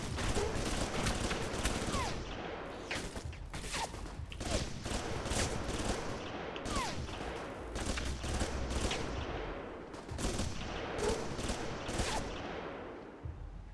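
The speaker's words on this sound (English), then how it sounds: "It's the Halo sniper rifle sound, but as a machine gun." Rapid machine gun fire in the stealth action game Alpha Protocol, with dense overlapping bursts of shots crackling almost nonstop at close range.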